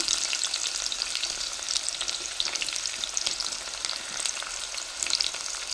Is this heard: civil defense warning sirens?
no